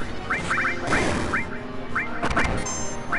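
Cartoonish bird quacks repeat in quick bursts during a Final Fantasy 7 battle, layered over busy game music with a couple of sharp hit sounds.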